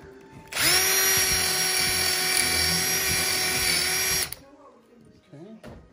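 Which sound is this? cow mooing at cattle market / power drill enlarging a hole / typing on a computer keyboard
power drill enlarging a hole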